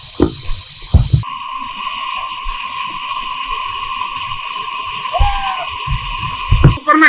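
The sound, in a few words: waterfall stream water flowing into a village pond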